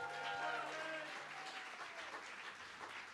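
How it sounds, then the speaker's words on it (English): Applause for Tony from a live-night audience at The Bedford, a moderate round of clapping over lingering tonal sound at the start, fairly soft and even. "I want a big, massive round of applause for Tony who puts on these nights"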